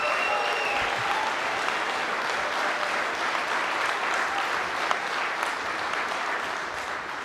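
Sustained applause from a large outdoor audience at the opening ceremony for the new east span of the San Francisco-Oakland Bay Bridge, dense and steady throughout with faint crowd murmur.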